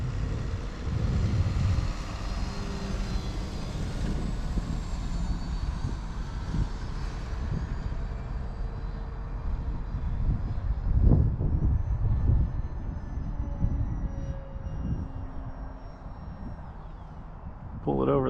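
Prime Tundra RC bushplane on floats climbing and looping overhead, its electric motor droning steadily with shifting pitch as it pulls over the top, mixed with outdoor wind rumble while a person talks over it.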